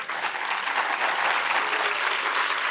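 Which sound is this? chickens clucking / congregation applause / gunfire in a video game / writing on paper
congregation applause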